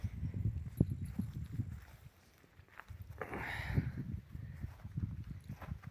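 Hooves of a young four-year-old mare clop on the ground at a slow walking pace, soft and moderately close, with a brief lull in the middle and faint wind-like noise.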